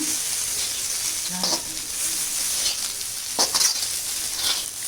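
Lentil podi fries in an iron pan with a faint, steady sizzle and a few brief scraping stirs, with no talk.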